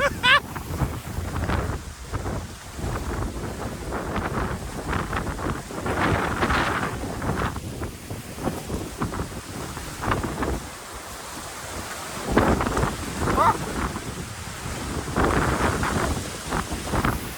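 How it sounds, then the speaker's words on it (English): Strong hurricane wind from Hurricane Helene roars and buffets directly against the microphone in loud, continuous gusts that rise and fall, with surging surf-like rushes throughout and a voice speaking beneath the noise. "Okay, so the storm has absolutely increased in magnitude since I started recording this"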